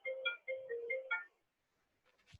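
A phone ringtone plays a short melodic phrase of stacked electronic tones, two bursts over about a second, then stops, followed by a brief faint rustle, in a quiet lecture room.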